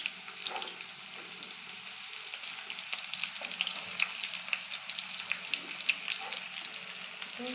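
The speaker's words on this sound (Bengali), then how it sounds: "তেলটা গরম হয়ে গেছে, এবার পেঁয়াজ দিলাম" Chopped onion fries in hot oil for a chicken dish, making a soft, steady, close sizzle with light crackles throughout and no talk.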